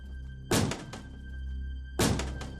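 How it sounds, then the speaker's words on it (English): Two heavy door bangs in an animated horror story, each a loud, sharp thump about one and a half seconds apart, ringing briefly over a low steady hum with no talking. "outside was the sound of the door banging"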